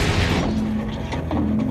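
An AT4 anti-tank weapon fires with a single loud blast at the start, followed by a lingering low rumble and a steady hum as the sound fades.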